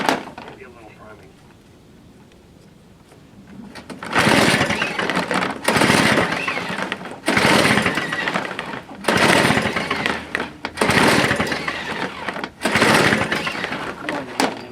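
A Toro 5/24 engine, under repair, cranks in five loud, rough bursts about a second or two long, with short pauses between them, after a quieter stretch at the start.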